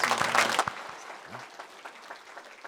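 Brief burst of congregation clapping in a Korean church Sunday service, loud at first and fading quickly within about half a second, with a few scattered claps and low murmurs after.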